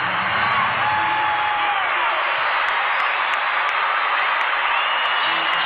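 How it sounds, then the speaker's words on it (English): A basketball arena crowd roars during a timeout after a slam dunk in a 1998 Lakers at Hornets NBA game, a loud, continuous wash of cheering and noise that stays level throughout. "Listen to this crowd."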